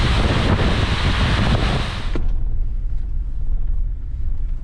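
Heavy rain falling outdoors makes a loud, hissing wash that cuts off abruptly after about two seconds, leaving a softer, duller patter with low rumble underneath.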